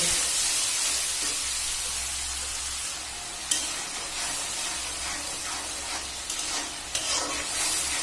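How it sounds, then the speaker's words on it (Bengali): Spice paste with water being stirred and fried in a pan, a steady sizzling hiss with occasional scrapes and clinks of the spoon, close and continuous. "এবার পানি দিয়ে মশলাটা কষে দেব"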